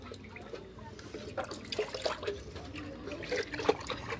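Water is poured and splashed while fish is being washed, with irregular trickles and splashy drips close by and soft voices talking in the background.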